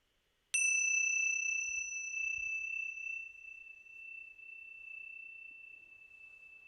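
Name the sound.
meditation bell ringing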